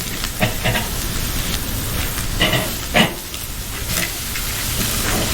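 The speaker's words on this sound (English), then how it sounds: "Still sizzling nice." Sous-vide sirloin steak searing over high heat, giving a steady broadband sizzle and hiss with a few sharp pops and crackles scattered throughout, close and continuous.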